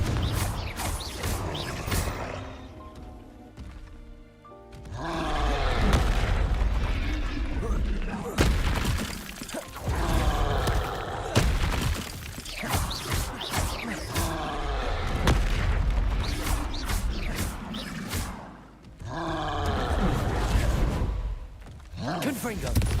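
Confringo blasting spells in the Hogwarts Legacy video game burst repeatedly as loud booming explosions over a busy battle mix, with someone talking over them throughout.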